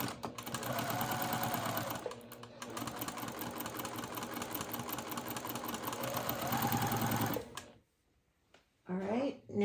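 Sewing machine stitching a few stitches on a quilt block, a loud steady mechanical whir running for several seconds, pausing briefly, then continuing before stopping; a voice speaks faintly in the background.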